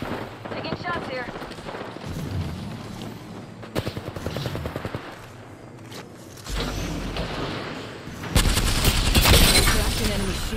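Gunfire in the battle royale shooter Apex Legends: scattered shots and rapid bursts crackle through the first half, then a heavy, loud volley of automatic fire erupts near the end.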